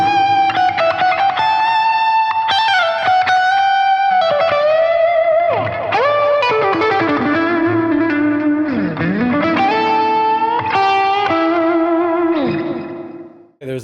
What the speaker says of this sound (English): Try a couple real slow melodic solos with delay and reverb.